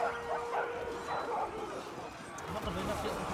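War dogs in Total War ARENA barking and yipping in a battle, several short yelps scattered through the clip under a voice.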